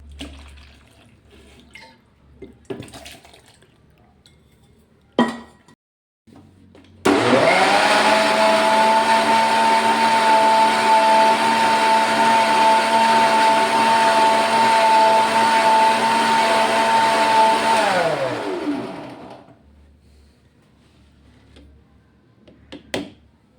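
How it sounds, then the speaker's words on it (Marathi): An electric mixer grinder churns buttermilk with added water to separate butter, starting abruptly and whirring loudly and steadily for about eleven seconds before winding down, with small clinks and handling sounds before and after. "पुन्हा फुलपात्रभर पाणी घालून पुन्हा मिक्सर चालू करूया"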